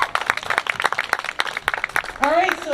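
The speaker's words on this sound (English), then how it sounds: "let's give them a round of applause" A graduation ceremony audience for a class of 2021 claps in a burst of sharp, scattered hand claps, and a voice starts speaking over the tail end of the applause.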